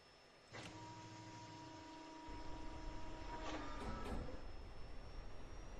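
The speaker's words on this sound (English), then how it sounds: "lower the landing gear" Landing gear lowering in the Falcon 4 BMS flight simulator during a VFR approach to runway 36: a sudden mechanical whir and tonal hum starts and holds, joined by a louder rumbling rush of airflow and drag, steady and close with no voices.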